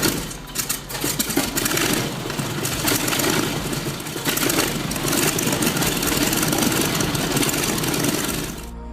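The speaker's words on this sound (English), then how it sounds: "The engine was converted to propane fuel to save money" An M2 tank engine converted to run on propane idles and runs with a steady, loud mechanical rumble and a rough, rapid knocking pulse, holding level throughout with a slight dip at the end and no speech.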